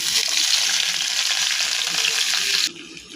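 Chopped garlic and onion fry in hot oil in a pan for Chinese fried rice, giving a loud, dense, steady sizzle up close that cuts off abruptly near the end.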